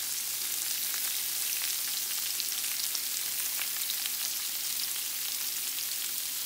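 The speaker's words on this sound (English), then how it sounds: "So we're just gonna put these shrimp on in there and let them cook." Shrimp burgers frying in hot grease, a steady, close crackling sizzle with fine popping throughout and no talk.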